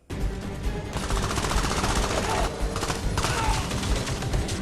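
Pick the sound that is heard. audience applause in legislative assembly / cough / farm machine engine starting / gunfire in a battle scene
gunfire in a battle scene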